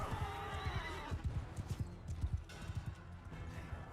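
A horse in the Mount & Blade II: Bannerlord video game, with rapid galloping hoofbeats and a loud neigh at the start, then more clip-clopping hooves continuing near and clear.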